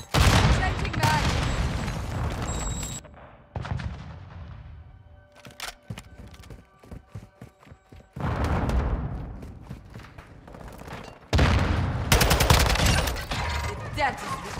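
Heavy gunfire from Call of Duty Modern Warfare 2 multiplayer on the Havoc map rings out in loud sustained bursts, broken by a quieter stretch of scattered single shots before the firing returns.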